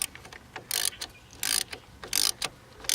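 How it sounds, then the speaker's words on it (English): A ratchet with an 8mm deep well socket tightens a battery cable on a diesel truck battery, giving several quick bursts of close clicking separated by short pauses. "get your 8mm deep well socket, slide the battery cable back onto the battery, give it a tap, and tighten down"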